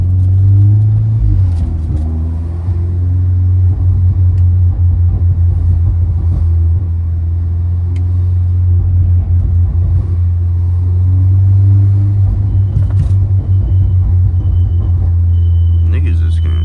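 A car in city traffic, heard from inside the cabin as a loud, steady low engine and road rumble throughout, with faint clicks and someone talking over it.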